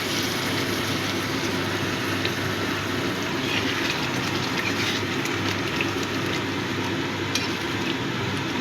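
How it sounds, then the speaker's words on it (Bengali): Hot water poured into a simmering chhana (paneer) curry, giving a steady wet sizzle and bubbling hiss that runs unbroken at moderate loudness, with no talking. "এবার দিয়ে দিচ্ছি গরম জল গ্রেভির জন্য"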